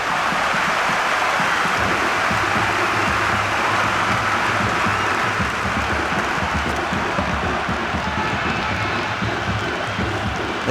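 A Cricket 26 stadium crowd roars continuously, a dense wash of cheering noise held at a steady loud level throughout, with no pauses or distinct voices standing out.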